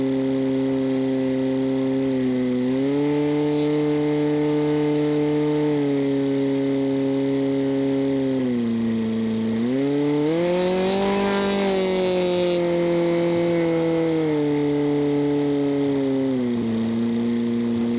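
Small airplane taxiing back to its hangar at KLOZ after an alternator repair, its engine droning steadily and loudly up close, rising in pitch once before settling again.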